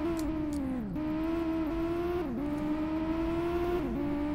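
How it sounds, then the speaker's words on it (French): Rally car engines drone in the PlayStation racing game V-Rally, a steady buzzing tone that dips in pitch every second or so like gear changes, loud and continuous with no voices. "je crois que j'entends des voitures derrière"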